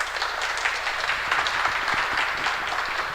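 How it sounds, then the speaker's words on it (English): Applause from a tech meetup audience after a machine learning talk, a steady wash of clapping hands lasting a few seconds, fairly close and without speech. "Can we have a round of applause for thank you."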